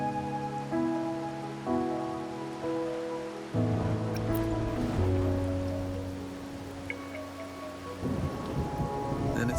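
Rain falls steadily in the Wuthering Waves video game, a soft continuous wash beneath sustained musical tones that shift chords every few seconds.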